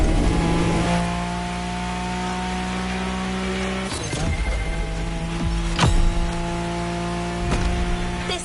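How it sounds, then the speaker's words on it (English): Racing car engine in The Crew Motorfest video game, idling with a steady hum and rising revs, warmed up at a runway drag racing spot, loud and close with no talk. "Warm up your engine and don't blink."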